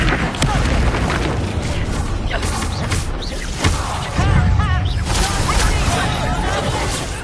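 Expulso explosion spell blasting in Hogwarts Legacy, a loud booming burst with crashing debris amid continuous game noise and spell effects.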